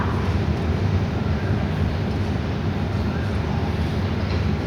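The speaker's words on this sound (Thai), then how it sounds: "ก็มาดูขบวนรถธรรมดาที่ 283 นะฮะ" A Thai ordinary passenger train hauled by a GE GEA diesel locomotive rumbles past close by, a dense, steady roar of wheels and engine that stays loud throughout with no voices.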